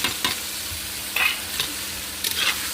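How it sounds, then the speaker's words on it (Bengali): Potatoes sauté in a pan with turmeric, chili powder and salt, giving a steady close sizzle broken by three scraping stirs of a spatula at a regular pace. "এবার আমি এর মধ্যে একটু হলুদ আর লঙ্কার গুঁড়ো দিয়ে দেবো দিয়ে আবার খানিকটা কষিয়ে নেব"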